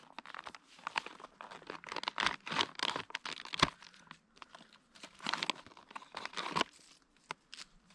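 A freeze-dried meal pouch is torn open at its tear notch, with close, crisp crinkling and ripping of the foil packet in irregular bursts over several seconds, no talking.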